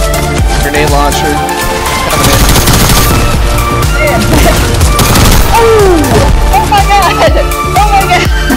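Dense, loud gunfire from the Squad military shooter game: overlapping rifle bursts and automatic fire with booms and whizzing rounds, sustained throughout, with voices calling out beneath the shooting.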